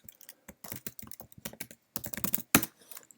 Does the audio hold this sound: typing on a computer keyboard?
yes